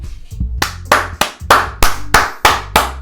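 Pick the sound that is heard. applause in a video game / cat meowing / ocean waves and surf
applause in a video game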